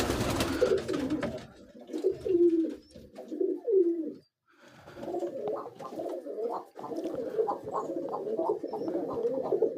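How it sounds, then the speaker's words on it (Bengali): Soft, repeated pigeon cooing close by, a steady run of low rolling coos with brief pauses between phrases. "দেখেন, অনেক সুন্দর একটা কবুতর।"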